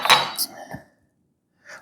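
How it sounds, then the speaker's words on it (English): Knife slicing through a baked potato on a cutting board indoors, a few close clinks and soft cuts in the first second, then quiet before a brief faint scrape near the end. "Put it on my board and I can cut better"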